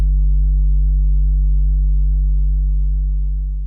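Deep sustained synth bass from the 'beefy' preset of the Iota Mini plugin in Cakewalk, a steady loud low drone with faint rhythmic ticks above, fading slightly toward the end.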